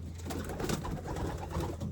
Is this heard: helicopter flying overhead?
no